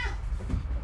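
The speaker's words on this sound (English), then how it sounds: "Orangey was arguing for my cat Stella" A cat gives a single short meow, close and fairly quiet, with no talking around it.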